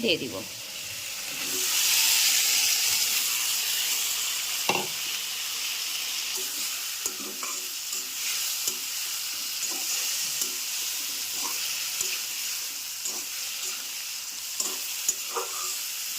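Bitter gourd frying in a pan of cooked-down spice paste for a fish-head curry, giving a steady close sizzle with occasional stirring clatters throughout, no talk.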